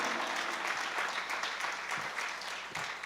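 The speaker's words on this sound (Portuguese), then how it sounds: "Um forte aplauso a ele nessa manhã." A church audience applauds for a man during a morning service, steady dense clapping filling the room for about three seconds with no voices over it.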